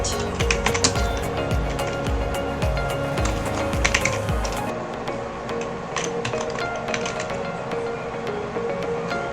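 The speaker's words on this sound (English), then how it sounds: "let's type on search bar disk management" Fingers type on a computer keyboard into a Windows 10 search bar, producing quick clusters of close, crisp key clicks for about five seconds, followed by a few scattered taps over a background hum.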